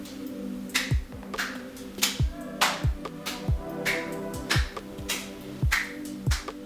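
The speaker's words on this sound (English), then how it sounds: "Stretch your hands and clap them in the front and the back 5 times each" Someone claps their hands during a stretching and deep breathing exercise routine, sharp separate claps at a steady slow pace, about ten in all, fairly close and quiet, with a faint tonal hum behind.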